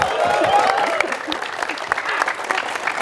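Audience applause for Coach Rahmad Darmawan, former Indonesia national team coach, at a talk show taping: a dense, steady wash of clapping that holds loud and then eases slightly, with faint voices mixed in.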